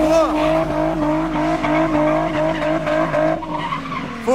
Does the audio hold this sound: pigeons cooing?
no